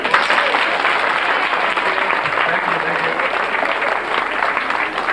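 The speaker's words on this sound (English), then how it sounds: "we can clap because we're going to welcome magician Dave Dees." An audience claps to welcome a magician onstage, a thick, sustained round of applause, loud and even throughout with a few crowd voices mixed in.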